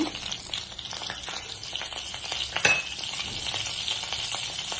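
Mustard seeds and cumin frying in hot oil, a constant soft sizzle with faint crackles and one brief clink of a utensil partway through.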